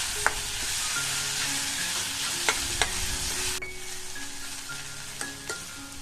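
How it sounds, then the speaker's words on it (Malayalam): Chopped capsicum stir-fries for egg manchurian with a continuous close sizzle, while a spatula scrapes and clinks against the pan in irregular strokes. "ക്യാപ്സിക്കം കൂടെ ഇട്ടിട്ട് 1 മിനിറ്റ് ഒന്ന് ഇളക്കി കൊടുക്കാം"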